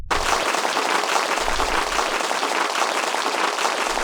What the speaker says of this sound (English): we're just gonna show him some love and applause